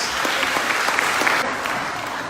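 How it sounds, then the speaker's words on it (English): A graduation audience gives the host a round of applause, a full, continuous wave of clapping from a crowd that holds steady and tapers slightly near the end. "Can we give him a round of applause"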